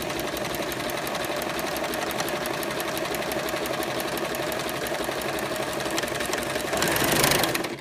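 A sewing machine fitted with a knit foot stitches fabric, its rapid even motor hum and needle clatter running steadily throughout and swelling slightly louder near the end, with no talking.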